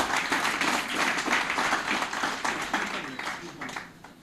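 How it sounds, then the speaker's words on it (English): Company staff applaud together at an annual staff retreat and award ceremony, a soft, steady patter of many hands clapping for several seconds before tapering off near the end. "Ladies and gentlemen, and staff of Yonna, please clap for yourselves"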